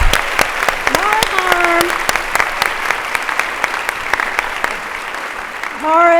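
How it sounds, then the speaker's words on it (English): A large audience claps loudly and steadily at the TEMPO Milwaukee leadership event, with sharp individual claps, a few cheers and whoops rising over the dense applause throughout. "we're going to give them a huge round of applause"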